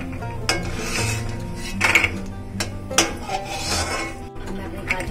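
Roasted crunchy almonds being scooped out of a pan over medium flame, with close metallic scraping and clinking of a spoon against the pan in irregular strokes.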